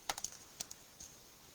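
Scissors snip paper in a few quick, close, faint clicks while fussy cutting around a watercolor melon coloring, with short pauses between cuts.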